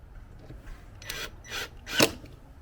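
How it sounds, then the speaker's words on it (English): A T25 Torx screwdriver works screws on a Sprinter van air filter housing, giving three short scraping turns that grow louder, the last the sharpest, against a quiet background. "I'll take my screwdriver, my T25 Torx."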